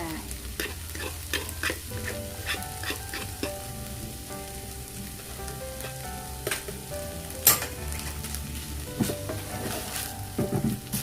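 Naem, Thai fermented pork, stir-fried with egg in a pan, a steady sizzle with repeated scraping and clinking of the utensil against the pan, close and continuous.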